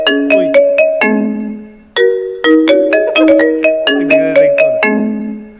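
A mobile phone ringtone plays loudly and close, a bright repeating electronic melody of plucked tones in two phrases with a brief gap between them, with no talking over it.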